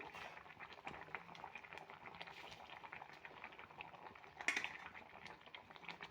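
A pot of brinjal and drumstick curry with halved boiled eggs bubbles steadily at a low simmer, a soft continuous burbling with one brief louder clink near the end.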